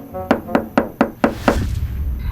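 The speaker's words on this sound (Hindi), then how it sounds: "रूम के खुले हुए दरवाजे को गुंजन मामा खटखटाने लगे।" Someone raps on an open room door with five sharp, evenly spaced knocks and a sixth softer one, all close and loud, followed by a little room noise.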